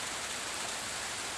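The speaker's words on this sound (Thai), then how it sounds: "ฝนตกแรงมากนะครับ" Heavy rain pours steadily across a farm with grass plots and rice fields in Yasothon, a dense, constant hiss with no breaks or voices.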